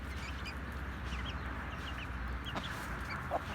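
Chickens and roosters in a coop cluck steadily at close range, several birds overlapping over a constant low hum, with no talk.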